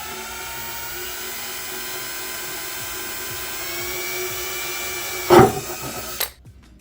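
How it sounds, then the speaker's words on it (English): A power drill bores a pilot hole into a metal ammo can, a steady whining drone lasting about six seconds, loud and close, ending with a sharp burst as the bit breaks through before the motor cuts off. "Now I'm just gonna drill a pilot hole in here to get it going."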